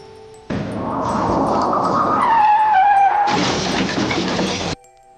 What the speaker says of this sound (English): The car went out of control and slammed into a highway stop.